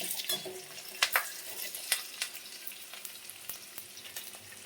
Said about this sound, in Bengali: কাঁচা লঙ্কা তেলের মধ্যে দিয়ে দেবো।